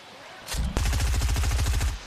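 Rapid automatic gunfire in the video game Fortnite during a competitive match, a close, loud burst of evenly spaced shots rattling for over a second after an initial crack.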